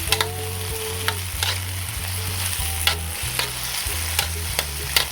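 Chopped tomatoes sizzle and fry in a pan for sautéed sardines with chayote, a steady crackle broken by repeated scraping stirs, close up with no talking.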